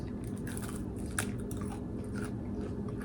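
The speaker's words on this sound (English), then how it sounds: "Definitely has a crunch" Someone bites and chews crunchy dehydrated steak chips up close, a few sharp crisp cracks followed by continuous munching, with no talking.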